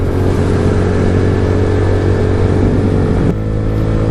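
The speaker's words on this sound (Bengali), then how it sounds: "চালাচ্ছে বাইক।" A motorbike ridden along a road toward the highway at dusk, its engine droning steadily and fairly loud throughout, with wind rush and a brief dip near the end.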